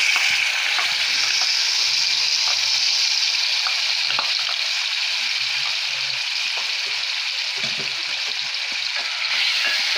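Chicken gravy frying in hot oil over a low flame, giving a steady, fairly loud sizzle throughout with faint stirring clinks now and then; no one speaks.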